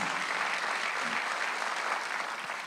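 Steady, dense applause from a church congregation during a Sunday worship service, a continuous wash of many hands clapping at constant loudness with no pauses.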